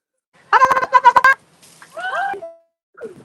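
A person's voice imitates a turkey gobble with a rapid warbling burst, followed by a few shorter sliding vocal sounds nearby.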